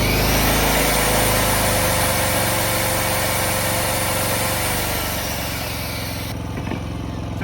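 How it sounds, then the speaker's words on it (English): A Predator 5000 inverter generator engine drones loudly with a low rumble that shifts and strains slightly as it ramps up under electrical load, then eases and quiets toward the end. "you'll see how the engine ramps up in order to meet that electrical demand"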